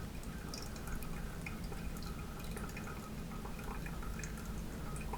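A quiet, steady trickle of water poured over coffee grounds in a Hario V60 pour-over dripper, with faint dripping, continuous and close, with no talking.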